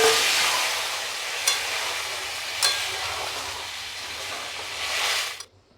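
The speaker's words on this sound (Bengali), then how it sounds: "এবারে এই জলটা দিয়ে আমি গ্রেভি করব। ঢেলে দিলাম এর মধ্যে।" Water poured into a hot pan of frying yam for curry gravy gives a loud, steady hiss and sizzle that runs throughout, with a couple of sharp clatters and an abrupt stop at the end.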